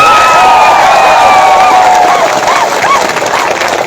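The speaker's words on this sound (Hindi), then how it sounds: "बुरे भोजन के लिए ताली मारे।" An audience claps loudly at a crowded gathering, with steady, sustained applause and shrill whistles and cheers rising over it.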